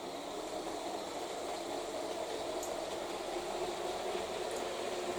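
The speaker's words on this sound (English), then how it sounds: "So what I'll do is I'll just run the train round" A model train runs around the Inglethwaite New model railway layout, making a steady, even whirring rumble that stays at a constant level throughout, with no talking.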